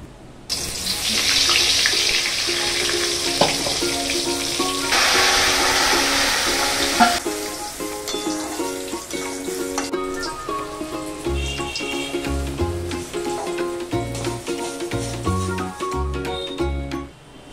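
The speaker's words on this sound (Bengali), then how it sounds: "ভাজাগুলো এক এক করে ভেজে নিচ্ছি" Vegetable fritters deep-frying one by one in a generous amount of oil give a steady broadband hiss that fades somewhat after the first seconds, running under melodic background music throughout.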